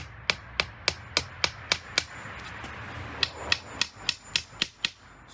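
A hammer drives nails into soft wood while a garden trellis is built, making a quick, steady run of about fifteen sharp, close strikes with a short pause in the middle of the run.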